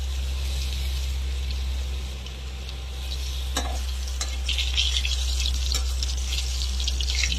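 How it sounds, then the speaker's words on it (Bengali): Brinjal slices fry in oil in a pan with a constant close sizzle over a low hum, broken by a few sharp spatula scrapes and pops. "দেখুন বন্ধুরা, বেগুন ভাজা হচ্ছে।"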